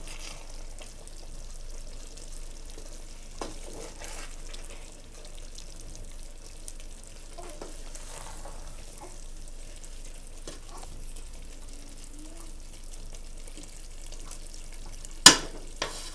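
Mutton kola biryani with ghee is stirred gently in a pan, a soft steady sizzle with faint scraping and occasional light clinks, ending in one sharp knock near the close.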